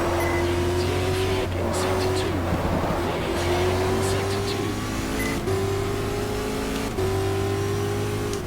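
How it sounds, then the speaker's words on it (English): An LMP2 prototype race car roars around the Spa-Francorchamps circuit in the GTR2 racing game, the engine note climbing steadily through gears with repeated upshifts, loud and continuous while a commentator speaks over it. "this car maybe is the LMP2."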